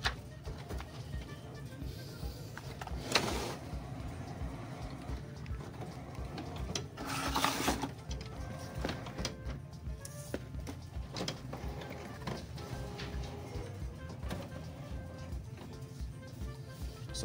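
An HP OfficeJet Pro 7720/7740 printer running calibration after a printhead replacement, a long stretch of steady mechanical whirring and rubbing with repeated brief clicks and carriage swishes, close and continuous.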